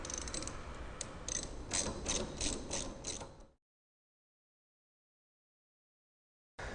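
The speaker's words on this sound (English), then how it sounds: "secure the pulley to the reel shaft using the bolt removed previously" A ratchet wrench clicks in quick, even strokes as a bolt is tightened to fasten a pulley onto the reel shaft of a Jacobsen groomer floating head, close and clear, then stops abruptly into silence.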